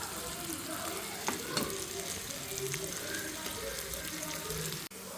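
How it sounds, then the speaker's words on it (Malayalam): Curry leaves and sliced onion fry in hot oil, giving a steady, fairly quiet sizzling hiss with faint crackles and a few small knocks, no voices. "ആ സമയത്തേക്ക് നമുക്ക് കാച്ചി ഒഴിക്കേണ്ട കറിവേപ്പിലയും സവാളയും കൂടെ വറുത്തെടുക്കാം."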